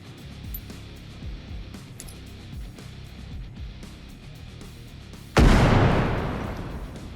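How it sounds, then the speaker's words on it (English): An M67 frag grenade detonates in the shooter game Bellum, a sudden sharp blast that rolls into a long fading roar, set after several seconds of low rumbling ambience and faint thuds. "We've also improved our M67 frag grenade animations and effects"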